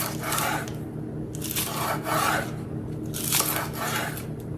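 Cucumber being cut into long thin strips for a Korean cucumber salad, heard as close, steady rasping knife strokes in repeated bursts against a board, with no talking.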